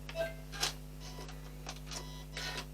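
Sewing machine running backward for a few reverse stitches while sewing a decorative circle: quiet, close mechanical whirring in short bursts with light ticking, over a steady low electrical hum.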